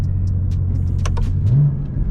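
BMW M3/M4 in sport mode with a magnetic paddle shifter: loud, steady exhaust drone with sharp clicks of paddle gear shifts popping over it, a brief rise near the end.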